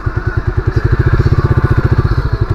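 Motorcycle engine running close by with a rapid, steady low putter of regular firing pulses, loud and alone without voices.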